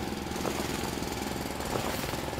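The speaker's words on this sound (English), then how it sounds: "Gonna have to drill it." Drill running in the video game Foundry, a continuous dense rattling grind with a steady pulsing rhythm, loud and close throughout with no voices.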